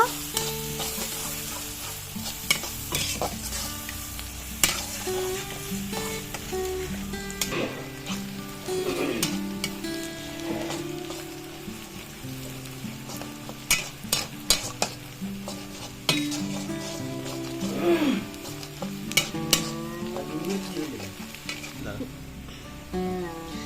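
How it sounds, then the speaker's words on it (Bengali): Chopped onions being stirred and fried in a pan, giving a steady sizzle broken by repeated scrapes and clinks of a spoon against the metal, continuing close and fairly loud throughout. "তারপর কুচি করে রাখা পেঁয়াজ কুচি এবার সুন্দর করে একটু নেড়ে চেড়ে নিব"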